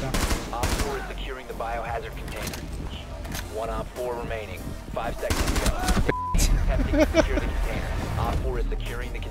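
Rapid bursts of gunfire in the Rainbow Six Siege video game, including machine-gun fire, sound repeatedly and loud throughout, mixed with people talking over the game.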